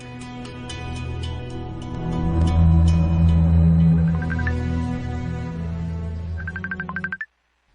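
A mobile phone ringtone plays a repeating electronic melody at steady volume, with a faster trilling pattern near the end before cutting off abruptly into silence.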